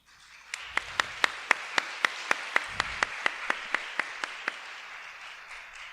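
An audience at an academic panel applauds, though one clear pair of hands dominates with about eighteen steady, evenly spaced claps over a soft background of others, fading out near the end.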